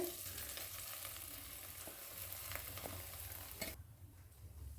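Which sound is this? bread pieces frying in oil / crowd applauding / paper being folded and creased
bread pieces frying in oil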